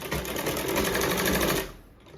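A sewing machine stitches a sleeve seam in a fast, steady mechanical whir lasting over a second before stopping abruptly, close and clear with no talking.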